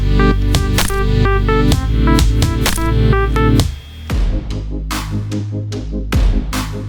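A beat built in FL Studio Mobile with two layered drum kits and melodies for a song's breakdown, dense punchy drum hits over sustained synth tones, dipping briefly before sparser hits continue, loud and with no voice.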